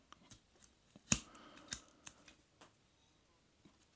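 Large Roxon Phantom scissors snip into thick rope: two sharp, distinct cutting snaps stand out among quiet handling clicks and rustles, close to the microphone.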